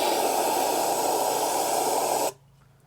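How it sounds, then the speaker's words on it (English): A can of brake cleaner sprays in one continuous, close hissing burst lasting a couple of seconds before cutting off abruptly, used on a sealing surface during work on a vintage Honda. "we're going to spray this with brake clean"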